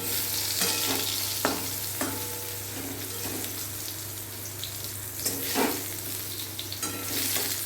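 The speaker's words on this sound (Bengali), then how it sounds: "এবারে পটল ভাজা করছি" Pointed gourd slices frying in mustard oil give a soft, steady sizzle with scattered stirring scrapes and clinks, heard close under a constant low hum.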